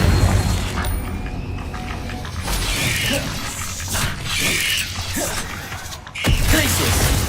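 Bursts of Confringo fiery spell blasts in Hogwarts Legacy during a fight with a giant spider, booming impacts with crackling, creaking debris, repeated several times at close range.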